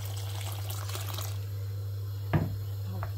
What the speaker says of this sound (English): we are going to dive into adding our warm water